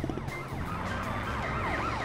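A police car siren wails in the racing game GTA RADMIR RP during a chase, its rising and falling tone sweeping steadily over a low engine rumble, moderately loud and continuous.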